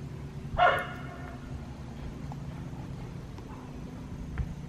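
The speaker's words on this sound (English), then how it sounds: "She's barking at the people voices" A single dog bark sounds at a moderate distance, followed by quiet outdoor ambience with faint background noise.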